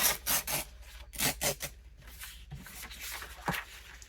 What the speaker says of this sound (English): Newsprint tears so easily too.